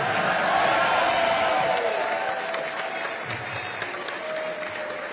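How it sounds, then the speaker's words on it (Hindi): A large audience of the Indian community in Nigeria applauds a speech by PM Modi, with dense, sustained clapping and crowd noise that starts loud and then eases slightly. "आपकी ताली से पता चल गया मुझे।"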